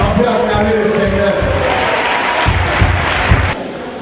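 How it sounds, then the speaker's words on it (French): Church congregation applauding and cheering at a Sunday service with a preacher, a dense crowd roar with clapping that holds steady and eases off near the end, with a voice over it. "on peut acclamer le Seigneur"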